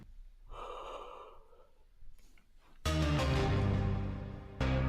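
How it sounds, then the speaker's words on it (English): A person yawns nearby, a drawn-out breathy gasp and exhale, followed by a loud burst of unrelated background sound. "Did you just yawn?"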